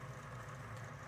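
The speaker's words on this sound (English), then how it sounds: "The little bit of a sound you can hear from one of the other engines" A motor on a six-axis motion simulator gives a steady, low hum that drones on without a break, fairly quiet and even throughout.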